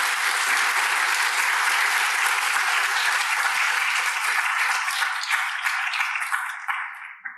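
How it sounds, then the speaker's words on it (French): A conference audience at IRTS Talence gives dense, sustained applause for the speakers after a talk on hypersensitivity, loud and continuous before thinning and fading out at the end. "J'offrirai une grande main d'applaudissements à nos conférencières."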